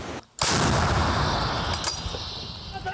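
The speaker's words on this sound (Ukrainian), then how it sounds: "кілька ударів американською гарматою М119" An American M119 howitzer fires once at close range, a sharp, loud blast followed by a long rolling boom and rumble that fades slowly over the next few seconds, with no voices.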